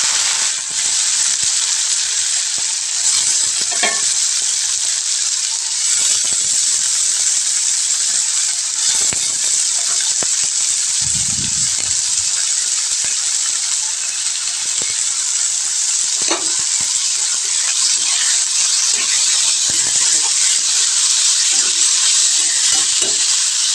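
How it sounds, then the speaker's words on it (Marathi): Cauliflower pieces fry in hot oil with garlic, giving a steady, loud sizzle with the occasional stir and scrape of a utensil in the pan. "त्या फोडी ज्या आहेत व्यवस्थित मी तेलामध्ये परतून घेते अगोदर"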